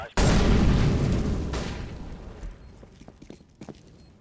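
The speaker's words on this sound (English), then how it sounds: "Throwing flashbang. Incendiary." Grenades thrown during a tactical shooter video game round: a loud, close blast with a sharp onset that rings out and decays over several seconds, with scattered smaller pops and clatter near the end.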